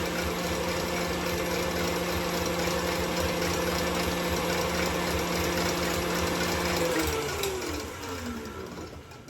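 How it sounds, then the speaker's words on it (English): An electric hand mixer runs at level 8 while beating eggs until they turn foamy, giving a steady loud motor whine and whirr that holds evenly and then drops in pitch and level near the end. "And I'm going to go to a level 8 on my mixer. And we want to beat them until they're foamy."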